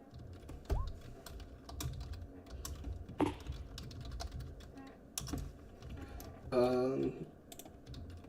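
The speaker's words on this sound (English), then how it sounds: "Sorry, I was typing shit." Rapid typing on a computer keyboard, bursts of close, crisp key clicks spread through the stretch, with occasional talking and other brief noises mixed in.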